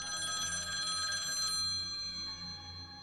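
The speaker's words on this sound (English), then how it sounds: "Suddenly, her phone rang, the sound piercing the silence." A telephone bell rings with a bright metallic trill that cuts off halfway, leaving a fading ring-down over a faint low hum, with no speech.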